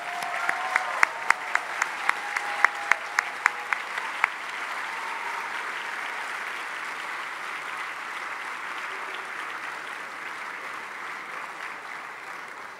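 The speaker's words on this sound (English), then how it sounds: "Now let's give them all a round of applause." Applause fills the room at the ThrillerFest awards banquet, sustained clapping from a large audience with a few sharp close claps early on, holding steady for over twelve seconds.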